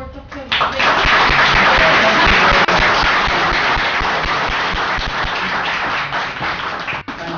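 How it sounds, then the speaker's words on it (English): An audience at an academic lecture on English as a lingua franca breaks into loud, sustained applause that starts abruptly and carries on steadily, with a sharp knock near the start and another near the end. "A round of applause for Dr."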